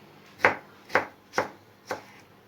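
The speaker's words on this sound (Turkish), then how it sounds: "Domateslerimizi doğrayalım." Four evenly spaced knife chops through tomatoes on a cutting board, crisp and close, each cutting through soft produce.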